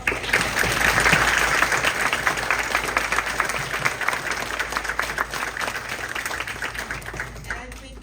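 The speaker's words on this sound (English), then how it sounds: "I think we should give a round of applause to our chief and his team" Crowd at a junior police academy graduation in Dover, New Jersey applauds the police chief and his team, loud sustained clapping that swells early and then gradually tapers, with scattered voices and cheers mixed in.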